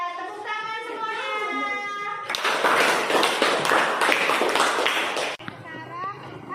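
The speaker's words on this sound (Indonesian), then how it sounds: "Tepuk tangan semuanya." A group of schoolchildren outdoors claps together in a dense, lively burst lasting a few seconds, with children's voices talking before and after.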